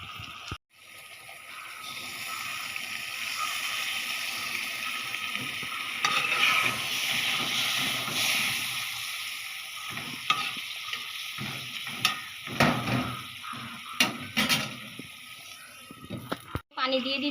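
Water is poured into a curry cooking in a pan, bringing a loud spreading sizzle and hiss along with scraping stirring noises, while a voice speaks at times over the cooking.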